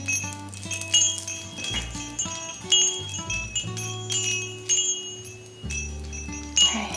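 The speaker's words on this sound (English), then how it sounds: "Bells are so nice." Small bells ring in a quiet energy-clearing ritual, struck repeatedly with clear, lingering tones that overlap and fade between strikes.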